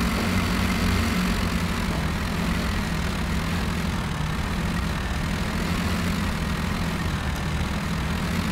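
A tractor engine in the modded game Spintires drones steadily with a low, continuous rumble and a constant hum, unchanging and close throughout.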